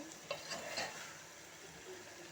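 Tomato and capsicum curry stirred in a pan as the tomatoes soften, faint scraping strokes and a light clink over a quiet background sizzle.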